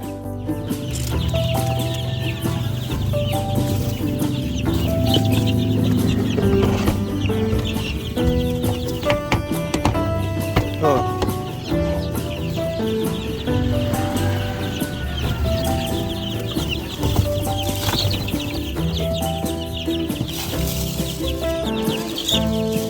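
Chicks and chickens clucking at a poultry feeder on a small farm, a continuous busy chorus of peeps and clucks with occasional louder calls, close and steady throughout.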